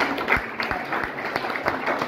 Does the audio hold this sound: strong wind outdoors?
no